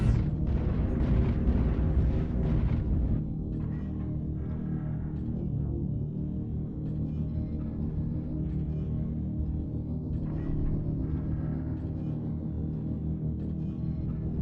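Airstrike explosions in a competitive video game match: a heavy blast opens, then fades into a long, continuous low rumbling roar.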